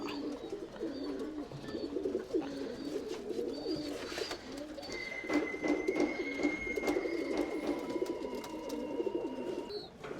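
Tumbler pigeons coo steadily in a loft, a dense overlapping chorus of low throaty calls close by, with a few higher squeaks and a faint steady tone running through part of it.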